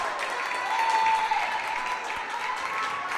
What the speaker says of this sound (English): Nice applause by both teams, recognizing the efforts of the man between the pipes